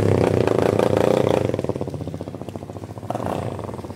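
A Yamaha Fazer 250 motorcycle with its original exhaust revs loudly and close, the engine note rising and falling in a few pulsing bursts with a rough, clattery edge.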